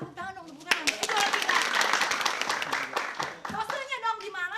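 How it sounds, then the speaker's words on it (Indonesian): Second-place winner cheered with a quick burst of hand clapping at a casual award moment, close and fairly loud, with excited voices talking before and after. "Tepuk tangan dong, tepuk tangan."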